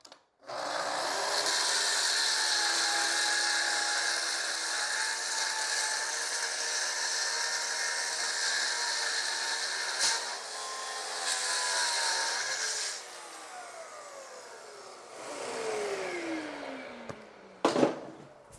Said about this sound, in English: The next thing I'm going to do is get my track saw, and I'm going to trim down all four sides.